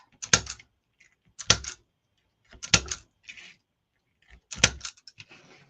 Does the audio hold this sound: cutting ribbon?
yes